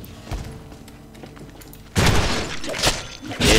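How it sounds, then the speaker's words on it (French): Small gunshots fired in the Deadpool video game, a sharp burst of cracks and thuds after a quieter stretch, loud and close, with a second burst near the end. "Et je donne des petits coups de feu aussi."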